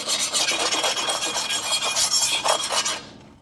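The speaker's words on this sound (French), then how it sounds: "Juste après la trempe, j'aime meuler légèrement pour vérifier si j'ai obtenu le hamon souhaité." A freshly quenched katana blade being lightly ground, giving a steady, loud, rasping abrasive rub with rhythmic strokes that cuts off abruptly near the end.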